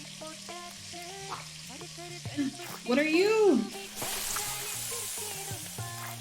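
Food sizzles in ghee in the cooking game Venba, a soft continuous frying hiss under game music, while a voice briefly talks over it.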